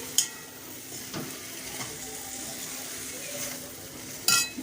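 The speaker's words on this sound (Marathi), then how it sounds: "असं परतून घेते, म्हणजे पूर्ण मसाला भेंडीला लागायला" Okra is stir-fried with masala in a pan: a steady sizzle runs throughout, with a few sharp clinks of a spatula against the pan near the start and end, close up and moderately loud, with no talk.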